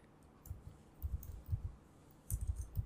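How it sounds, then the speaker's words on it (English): Quiet clicks of keys on a computer keyboard come in short bursts of a few strokes each, separated by pauses, as a command is typed. "who am I, and you hit enter on your keyboard"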